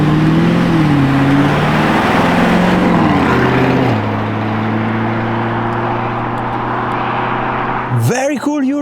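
A Lamborghini Urus Performante engine revving loud and close, its deep tone rising and dropping through several pitch steps, then settling into a steady drone before a sharp final rev burst.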